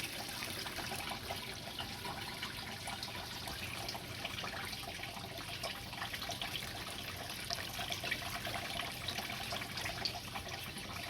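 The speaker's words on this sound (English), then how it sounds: "I'll just keep pouring over this till it runs clear." Water poured over a tie-dye shirt, soaking the fabric until it runs clear, makes a steady, quiet trickling and splashing that continues throughout.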